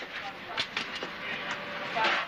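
British Rail train running from Leeds to London, heard from inside the carriage as a steady rumble with faint rail clicks, with people talking over it.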